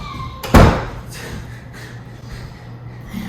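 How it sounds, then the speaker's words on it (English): A pantry door in a home kitchen closes with a single sharp, loud thud near the start, followed by faint shuffling and quiet room noise. "She closed the door."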